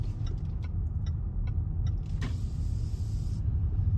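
A car drives around the town of Criccieth, its engine a low steady rumble inside the cabin with a few faint ticks, and a brief high whine partway through; nobody talks.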